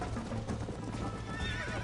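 A horse in Red Dead Redemption whinnies while its hooves clip-clop in a quick, uneven gait, the game sounds fairly quiet and steady throughout.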